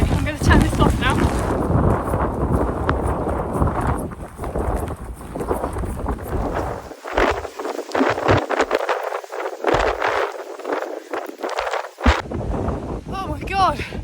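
Strong wind roaring across an exposed hillside, heavy gusts buffeting the microphone with rough, uneven bursts, and a voice speaking through part of it.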